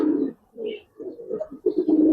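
Giribaz and fantail pigeons coo in short, throaty bursts at close range, several rounded calls separated by brief pauses, with a few faint higher chirps between them.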